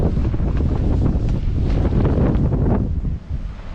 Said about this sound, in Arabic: كاين الريح